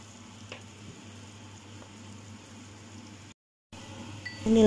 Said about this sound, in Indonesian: Digoreng-goreng dibalik-balik hingga berwarna kekuningan, hingga sampai matang merata.